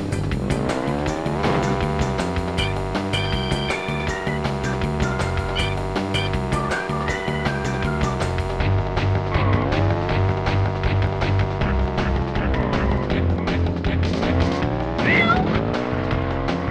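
Kart racing in the PS1 game Crash Team Racing: continuous engine whine and occasional tire squeals and skids run under a loud, steady music track for the whole stretch.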